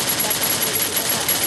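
Gunfire in the Free Fire video game: a dense, continuous rattle of rapid shots at steady loudness, mixed with game noise.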